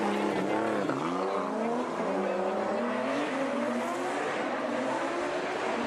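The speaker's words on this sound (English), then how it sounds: "S burning some tires on the straightaway" Formula Drift Japan drift car smoking its tires down the straightaway, a loud continuous engine howl with rising and falling revs and tire squeal, commentators talking over it.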